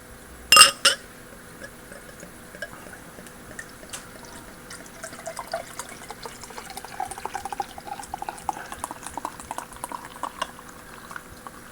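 Beau's Dunkel Weizenbock beer poured into a glass: a brief loud clink and splash at the start, then a long stretch of soft, steady fizzing and crackling foam, close and with no talk.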